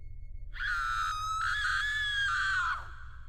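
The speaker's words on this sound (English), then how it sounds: "She screamed" A woman screams, a sharp sustained shriek of about two seconds, loud and alone over a low background hum.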